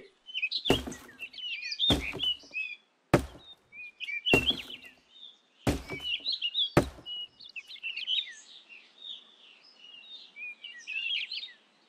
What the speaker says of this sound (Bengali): কত সুন্দর পাখির কলরব চারপাশে, বাতাসে গাছের পাতা পড়ার শব্দ।